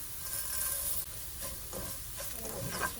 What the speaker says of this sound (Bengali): পেঁয়াজটা ভাজা হয়ে গেছে, এখন দিয়ে দিলাম পাঁচফোড়ন